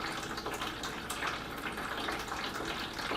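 Clean-out water drains from the front taps and back drain of a self-cleaning hot and cold bottled water cooler, a steady broadband splashing and trickling that runs without pause, with no talk.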